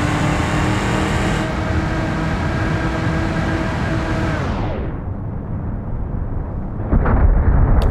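A heavy vehicle slams into Thor's hammer in BeamNG.Drive, a loud sustained roaring crash that fades and drops away, followed by a sharp renewed burst of impact noise near the end.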